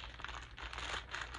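Soft papery crinkling and rustling, steady and close, as items are pushed down into a gift bag with scissors.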